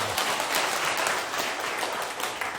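An audience claps at a Korean Buddhist lecture or talk session: a continuous wash of many hands clapping at moderate loudness, steady throughout the short span with no talking over it.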